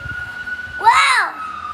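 A fire truck siren wails past in a rising and falling sweep, loud for a moment before fading, with faint background noise and a voice nearby.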